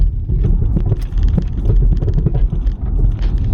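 A car towing a trailer on the road gives a steady, loud low rumble with some wind buffeting, continuous and without pauses.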